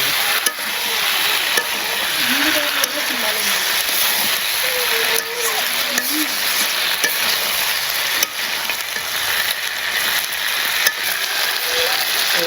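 Steady loud sizzling of garlic and onion frying in a pan, with a voice talking faintly underneath throughout.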